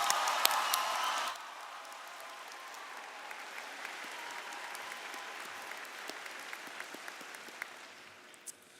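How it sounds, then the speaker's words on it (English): Applause from the crowd at a 2024 high school graduation ceremony, with a loud full burst at first that quickly thins to faint, scattered clapping and a few distant claps. "Please give her a round of applause."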